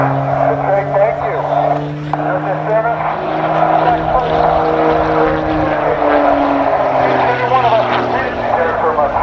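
Aerobatic propeller airplane performing at the 2024 Dayton air show, its steady engine drone with shifting pitch carrying throughout under crowd noise and a public-address voice talking.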